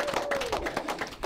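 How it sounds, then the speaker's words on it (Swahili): Brief burst of clapping from a choir gathering honoring their chairman, a steady patter of hands filling the short moment with no talk over it. "Makofi kwake mwenyekiti."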